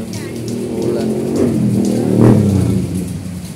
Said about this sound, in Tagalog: Kaya ito na naman ay ulan.